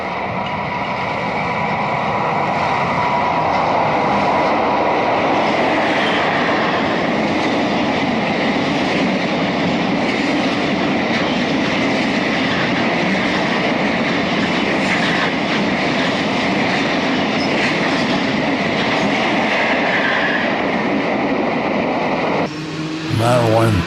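A westbound Erie Lackawanna MU commuter train rolls past at West End with a steady, loud roar of wheels and motors, rhythmic clicking over rail joints and a sustained high whine, ending in an abrupt cut.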